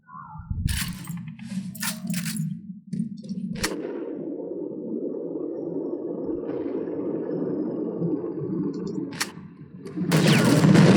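Bursts of rapid gunfire crack over a steady rumbling tank engine drone in Sniper Elite, with sharp shots near the start and a louder barrage at the end.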